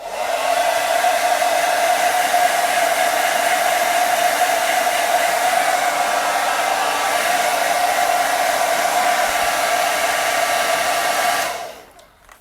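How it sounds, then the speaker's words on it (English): A hair dryer blows steadily at close range with a constant high whine, then cuts off abruptly near the end. "Took a hairdryer to it."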